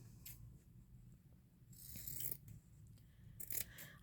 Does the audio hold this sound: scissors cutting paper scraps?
yes